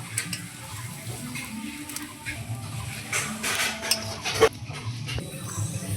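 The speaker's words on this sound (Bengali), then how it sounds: "এবার আমি নামিয়ে নিচ্ছি, পাত্রে আমি ঢেলে নিচ্ছি" Cooked helencha-leaf curry is poured and scraped from a cooking pot into a serving dish, with light metal clinks, soft spoon scrapes and a faint lingering sizzle, close and moderately quiet, no talking.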